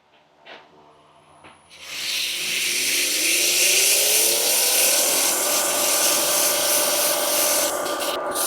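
Abrasive paper rubs against a spinning wooden bottle opener on a wood lathe, heard as a continuous close hiss that starts after a couple of soft knocks. No one talks.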